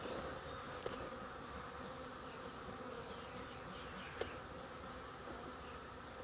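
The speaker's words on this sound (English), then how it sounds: "Bees." Many bees hum in a steady, dense drone, faint and continuous, with a couple of brief soft clicks.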